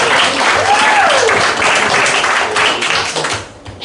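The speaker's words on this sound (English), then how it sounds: "Round of applause for David." An audience at a live debate on feminism bursts into dense, steady applause, a full wash of clapping from a crowd that holds for a few seconds and then tails off.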